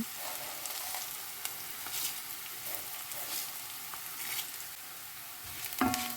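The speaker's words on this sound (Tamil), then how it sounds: "வெந்தயத்தை இதோட சேர்த்து வதக்க போகிறேன் இப்போ வெந்தயத்தை போட்டிருக்கிறேன்" Quiet, steady sizzling of fenugreek seeds frying in a hot pan, with faint crackles and a few soft scrapes, no voices.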